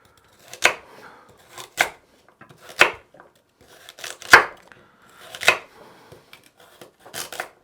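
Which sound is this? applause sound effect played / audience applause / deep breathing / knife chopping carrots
knife chopping carrots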